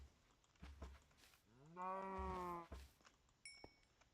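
Cow mooing in the Minecraft video game, a single drawn-out low moo standing out clearly against quiet in-game ambience, with a few soft clicks around it.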